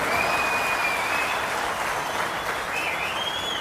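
Studio audience applause on a televised Hindi courtroom-style interview show, a sustained even roar of clapping from many hands that carries through the whole moment, moderately loud and without speech.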